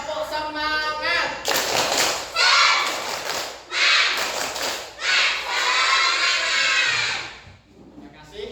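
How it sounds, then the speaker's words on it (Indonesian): A school class doing the rhythmic tepuk semangat spirit clap together, loud bursts of group clapping in a patterned rhythm with chanted voices between them. "Kita tepuk semangat dulu ya."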